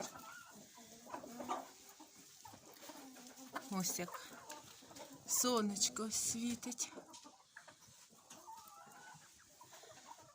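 Hens cluck and murmur softly around a henhouse on a sunny day. Scattered, fairly quiet calls come through between and beneath a person's talking.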